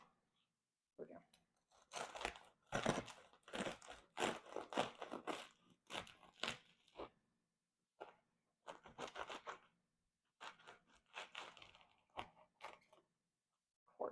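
A knife saws through a crusty sourdough loaf with a very burnt bottom, making bursts of crackling, crunching crust in uneven strokes with pauses, close but quiet.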